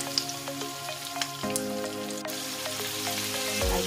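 Shrimp heads and shells frying in a pan of butter or oil, giving a steady soft sizzle with scattered crackling pops, close and alone without talk.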